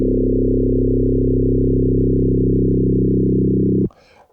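FM synthesizer patch on a Korg Kronos Mod-7 engine, a loud sustained buzzy tone with a shifting harmonic layer, holding steady for nearly four seconds before cutting off abruptly into a faint tail.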